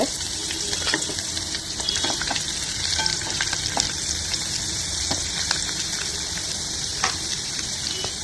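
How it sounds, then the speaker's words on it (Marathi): Garlic frying in a pan for arbi bhaji, a dense continuous close sizzle with light stirring clicks throughout, heard alone without talk. "लसूण भाजतं"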